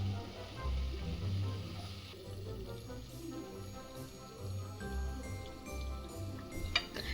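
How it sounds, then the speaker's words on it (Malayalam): Prawns fry in hot oil in a home kitchen, a soft steady sizzle with occasional clinks of a utensil against the pan, fairly quiet and without talk. "ചെമ്മീൻ തിരിച്ചും മറിച്ചും ഇട്ടൊന്ന് ഫ്രൈ ചെയ്തെടുക്കാം."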